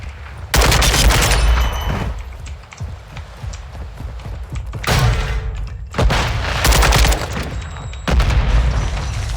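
Heavy gunfire bursts in loud, sharp volleys, with booming grenade blasts punctuating the shooting at close range, in a Call of Duty: Modern Warfare II multiplayer match.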